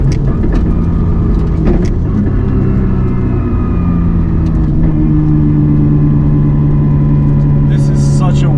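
Nissan R34 GT-R engine droning loud and steady as the car drives, a continuous low rumble with slight shifts in pitch, close and constant throughout.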